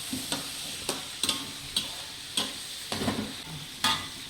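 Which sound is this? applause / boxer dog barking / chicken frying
chicken frying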